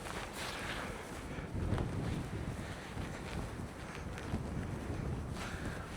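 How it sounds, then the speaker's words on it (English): Gusty wind buffets the microphone on a blustery day beside the Brooks River in Katmai National Park, Alaska, a loud, rumbling continuous roar with swelling surges. "A little bit of a blustery day"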